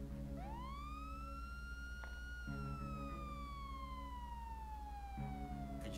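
A single police siren in a GTA roleplay game rises sharply and then slowly falls in a long wail, with a steady low electronic hum and repeating tones underneath.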